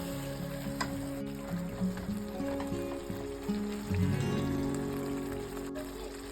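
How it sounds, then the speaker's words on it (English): Steady sizzling and gentle bubbling of a tomato mix with parsley, curry, seasoning cube, salt and turkey cooking in a pan, a continuous close crackle with faint stirring. "So I'll let this tomato mix cook for a good 10 to 12 minutes"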